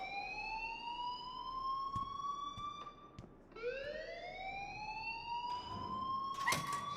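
A rising and falling electronic alarm wails in the video game Life Is Strange, its pitch sweeping up in repeated cycles, loud and steady with a few clicks and no talking.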